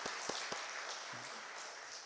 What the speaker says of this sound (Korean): 우리 전체를 위해서 다시 한번 박수합시다